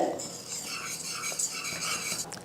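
Gram flour mixture for Mysore pak is stirred steadily in a pan, with close scraping and rubbing strokes and faint clinks, and no voices.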